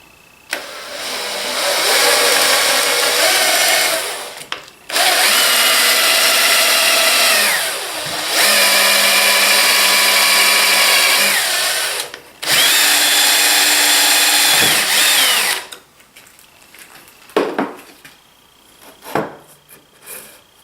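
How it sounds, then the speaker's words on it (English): A power drill with a brad point bit boring into a wooden dowel, heard as loud sustained whirring bursts close by, three long runs separated by short pauses, then trailing off into a few quieter handling knocks. "Nice thing about this brad point is that tip bites right into that dowel"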